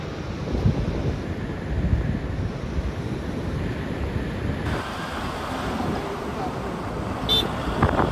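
Surf and gusting wind at a beach make a broad, steady rush, with wind buffeting the microphone and voices talking over it.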